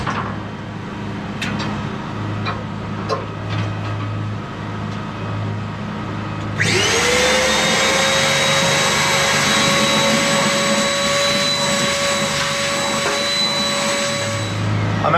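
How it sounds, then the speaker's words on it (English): A vacuum cleaner starts up in a cabin under repair, running loud and steady as it sucks up debris, after a stretch of lower mechanical hum. "I'm going to start with a bit of a vacuum of all the debris"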